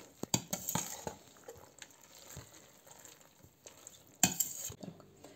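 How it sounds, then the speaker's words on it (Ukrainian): Macaroni mixed with egg batter in a bowl, stirred with a utensil in quick clinks and wet sloshing scrapes, with louder bursts at the start and again near the end, close and fairly quiet. "І розмішуємо."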